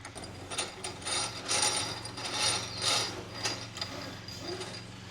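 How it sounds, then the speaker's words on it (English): Rope being fed through a pulley system rigged to hang a 16-foot Wenonah canoe, giving a series of close ratcheting, clicking mechanical runs in repeated bursts over a steady low hum. "now let's feed the rope through the system"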